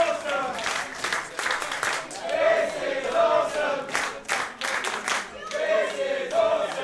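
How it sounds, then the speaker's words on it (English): A pro wrestling crowd at a live show chants "This is awesome" in rhythmic bursts of voices mixed with clapping, loud and sustained from a packed room. "this crowd chanting, "This is awesome,""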